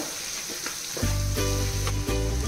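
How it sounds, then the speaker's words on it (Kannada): Tomato frying in a pan with chilli powder and garam masala gives a steady close sizzle that grows louder and denser partway through, with a brief stirring scrape and no talk. "ಇದನ್ನು ಇವಾಗ ಈ ಟೊಮೆಟೊ ಫ್ರೈಗೆ ಹಾಕಿ ನಾನು ಫ್ರೈ ಮಾಡ್ಕೊಳ್ತಾ ಇದ್ದೇನೆ."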